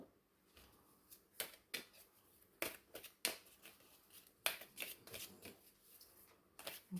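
Cards being shuffled by hand before a reading draw, a series of quick riffling flutters and soft slaps at irregular intervals, close and fairly quiet, with no talking.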